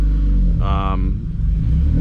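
A 1984 Toyota Celica RA64, freshly dyno-tuned, idles with a steady low rumble throughout, briefly overlaid near the start by a short bright tonal burst.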